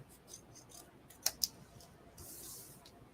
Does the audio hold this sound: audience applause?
no